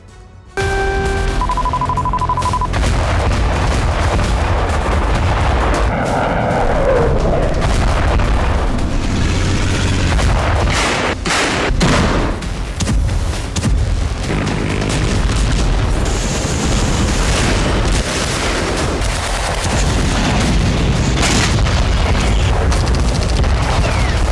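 Explosions and artillery fire in the Ukraine war zone: dense, loud, continuous booming and blasts overlapping with no pause, a sustained roar of bombardment with sharper cracks scattered throughout.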